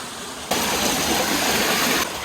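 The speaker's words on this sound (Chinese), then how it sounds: "水声潺潺。" Babbling stream water in a rural Jiangxi village, a steady broadband rush that swells in abruptly and holds loud and close for about a second and a half before dropping back.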